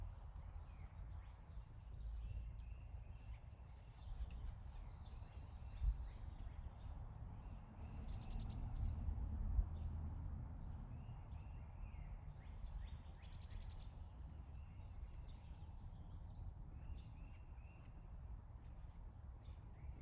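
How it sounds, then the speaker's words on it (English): Birds chirp outdoors in faint, scattered bursts of high tweets over a low rumbling background hum, with a few brighter calls rising at intervals across a quiet stretch. "I get to sit and contemplate the birds"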